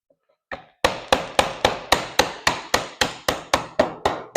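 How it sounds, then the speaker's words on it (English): A hammer taps a board set on a tight-fitting beehive part about a dozen times in a steady, even rhythm, each strike sharp and close, after a couple of softer initial knocks. "Instructions say get a piece of board, set on top, and then use your hammer."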